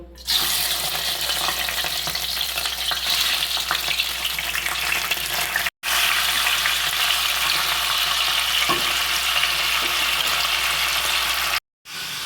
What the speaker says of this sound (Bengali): এবার মাথাটা এই তেলে ভালো করে ভেজে তুলব।